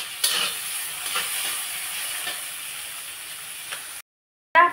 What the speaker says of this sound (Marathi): कांदा आपल्याला फक्त असा परतून घ्यायचा आहे, खूप जास्त त्याला डार्क करायचा नाहीये.